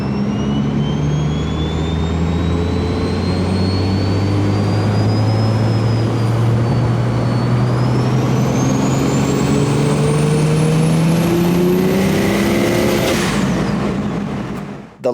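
BMW engine pulling hard in 4th gear from 2500 to 4500 RPM during a fuel pressure test log, a loud steady rising drone with whining harmonics climbing throughout before easing off at the end.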